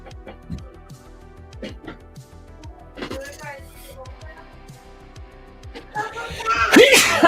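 A single sharp sneeze bursts out near the end, close and loud, following a stretch of quiet handling noises and low conversation.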